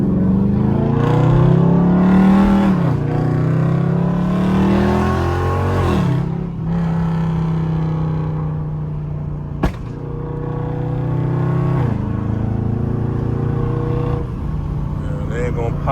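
A Dodge Charger Scat Pack with a flame tune revs and accelerates loudly on a city street, its engine rising and falling in pitch through several pulls, with a sharp exhaust pop near the middle and rumbling idle between.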